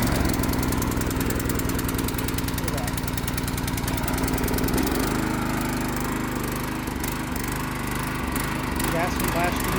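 A lawn mower engine on choke pulls over and catches, then settles into a steady, close idle with a rapid rhythmic chug and clatter throughout.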